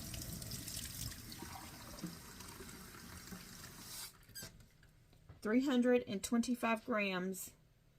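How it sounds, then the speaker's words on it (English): Room-temperature water is poured for sourdough baking, a steady splashing flow heard up close for several seconds. A person then talks briefly over quieter sound. "room temperature water once again"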